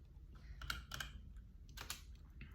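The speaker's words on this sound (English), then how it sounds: "we type in the word alert" Keys clacking on a computer keyboard as a word is typed into web page code, a few quick taps and a short burst near the end, quiet and close with no talking.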